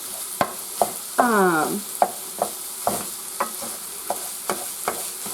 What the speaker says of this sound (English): And so we start with just browning some sausage.